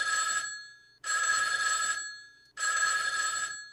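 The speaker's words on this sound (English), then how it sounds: "And we get a phone ringing." Three bursts of a ringing telephone bell sample triggered in Backbone sound design software, each ring lasting about a second with short gaps, loud and close with no talk.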